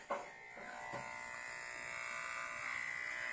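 Electric hair clippers buzz steadily and close, cutting hair with a constant high whine that shifts slightly as they move, following a brief click at the start.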